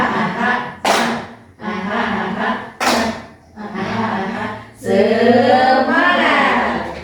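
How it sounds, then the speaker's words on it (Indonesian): Group clapping at an education training session: a series of short bursts of hands clapped together in rhythm, separated by brief pauses, ending in a longer stretch of clapping mixed with voices. "Tepuk tangan untuk kita semua."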